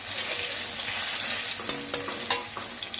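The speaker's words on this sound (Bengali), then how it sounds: "আদাটাকে একটু ভেজে নেব।" Crushed ginger with a little turmeric sizzles steadily in hot oil, a close broadband frying hiss with a few soft clinks and scrapes of stirring toward the end.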